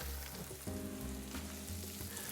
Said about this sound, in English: You just kind of want to let the butter sizzle in the pan and melt.